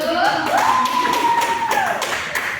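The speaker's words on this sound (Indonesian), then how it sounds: "tepuk tangan untuk Ilham dulu" Classroom of pupils clapping for a classmate named Ilham, a dense patter of small hands close by, with a thin whistle-like tone rising and holding through the middle.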